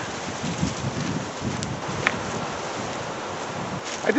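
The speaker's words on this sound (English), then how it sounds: "Windy." Steady wind blowing across an outdoor microphone, a continuous broadband rush with faint rustling and a few small gusts, no voices.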